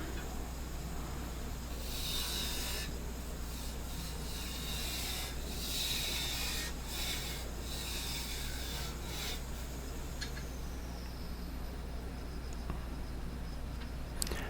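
Steady rasping and scraping of a tool against a spinning cork oak lidded box on a lathe, with bursts of hissing friction over a constant low motor hum, close and continuous.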